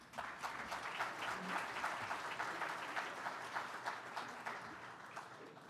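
Steady applause from a room full of people, continuous clapping at an even level throughout without pause.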